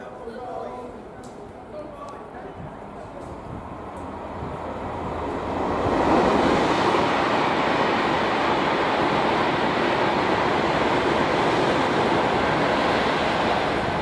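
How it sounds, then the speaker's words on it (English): A non-stopping train rushes through a station on platform 3, a broad roar swelling after a few seconds and holding steady and loud, with faint speech early on. "The next train, platform 3, does not stop here."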